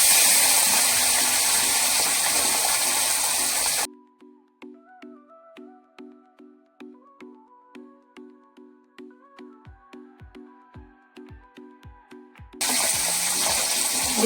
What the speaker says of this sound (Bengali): তেল গরম হয়ে গেছে। এবার একটা একটা করে আমি মাছ ছেড়ে দিচ্ছি।